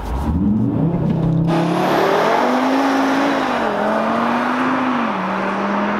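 A tuned 2022 Audi RS3 launches hard on a road test. A loud engine roar climbs steadily through the gears with a rising whine and short shift dips, continuous and close throughout.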